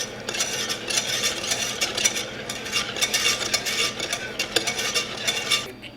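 A whisk beats lemon pepper seasoning into melted butter in a pan, making quick, steady, rhythmic scraping and clinking strokes close up, with no talking.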